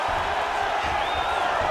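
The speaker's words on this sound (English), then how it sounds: "they can take in the applause because they deserve it after that grappling exchange" Spectators at an MMA fight roar and applaud after a grappling exchange, a dense continuous crowd wash with a rising whistle, loud and sustained, with faint commentary voices mixed in.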